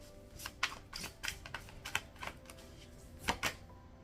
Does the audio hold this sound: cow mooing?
no